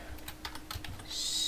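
Computer keys tap in a quick irregular run of about ten clicks, close and fairly quiet, ending in a brief brighter hiss.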